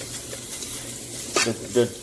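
Chopped onions, garlic and meat sizzling in a pan, a constant frying hiss with a couple of louder stirring scrapes near the end.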